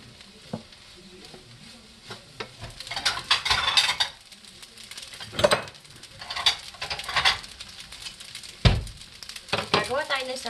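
Fried rice sizzles steadily in a pan while a utensil stirs and scrapes it, with bursts of clinking and scraping against the metal and a louder knock near the end.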